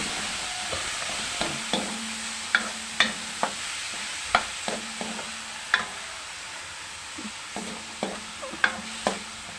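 Pancit palabok being stirred in a pan, a steady hiss of frying under repeated sharp scraping taps of a utensil at an even, unhurried rhythm, close and alone without talk.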